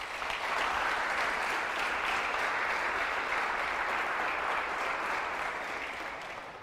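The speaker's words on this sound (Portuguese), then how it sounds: "Você podia dar um aplauso a ele por isso." Audience applause during a motivational talk, a continuous dense roar of clapping held steady for several seconds before easing slightly at the end, with no voices heard.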